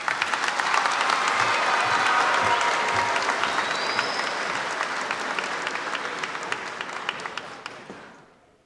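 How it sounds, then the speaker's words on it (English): An audience at a graduation ceremony claps in a loud, dense round of applause that holds steady for several seconds before tapering off and fading out. "Let's give another round of applause for Divinity and Miss Emmons."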